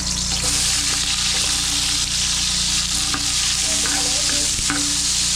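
Onions fry in a pan with a loud, steady sizzle throughout, broken by occasional small clinks and stirring sounds.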